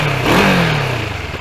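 CF Moto MT650 motorcycle, its 650 parallel-twin engine derived from the Kawasaki ER6, revs briefly from idle, rising and then settling back into a steady, fairly quiet close-up idle.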